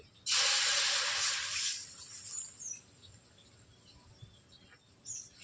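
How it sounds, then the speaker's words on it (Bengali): Water poured into a hot wok on a stove gives a loud sudden hiss that fades over about two seconds, then faint steam and small crackles remain. "কড়াইতে আমি প্রথমে জল দিয়ে দিচ্ছি।"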